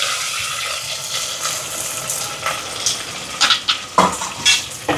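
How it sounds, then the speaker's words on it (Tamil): Shallots frying in oil with curry leaves and green chilli, a bright continuous sizzle near the mic, with louder bursts of crackling and spatter toward the end and no talking. "வெங்காயமெல்லாம் நல்லா வதங்குது"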